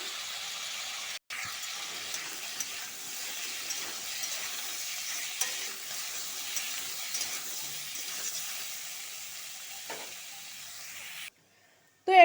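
Fish and potatoes fry in oil with turmeric and spices, giving a steady, quiet sizzle and hiss with occasional light stirring clicks, heard alone without talk.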